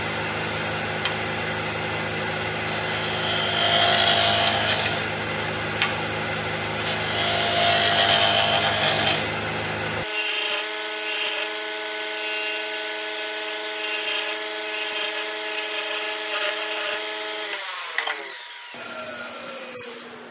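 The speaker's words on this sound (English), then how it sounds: "Put a quick burr on this negative rake scraper. See if sometimes it'll kick it." A negative rake scraper cuts pecan wood on a lathe for a stick vase, giving a steady, loud grinding whir. Partway through it changes to a cleaner, more tonal hum that winds down near the end.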